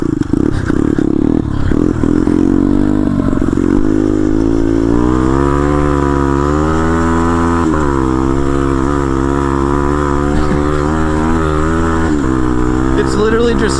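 Turbocharged pit bike engine revving hard with rising and falling pitch sweeps, loud and close throughout, with a voice talking over the continuous engine roar.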